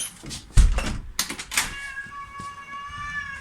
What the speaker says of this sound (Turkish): Bizim kedi çıldırıyor